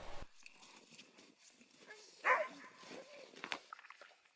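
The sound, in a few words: sled dogs barking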